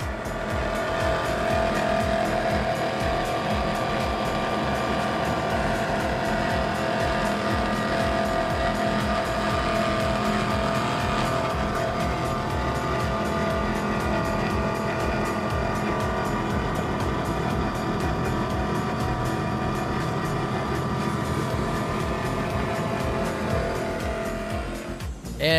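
Big powerboats with Mercury Racing engines, including a 46-foot Outer Limits, run at the Key West Poker Run, a steady loud roaring drone of multiple engines holding for the whole stretch with no talk.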